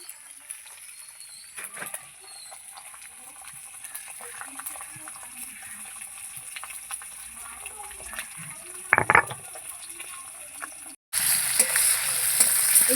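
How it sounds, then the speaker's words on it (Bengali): Rohu fish belly pieces frying in oil in a pan, a soft continuous sizzle with occasional scrapes and clinks, ending in a sudden louder burst of hissing. "আমার মাছের পেটিগুলো ভাজা হয়ে গেছে বা তুলে নেব"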